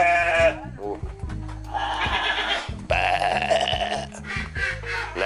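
Goats bleat in a resort animal pen, several calls rising over a steady background hum and murmur, fairly close and loud.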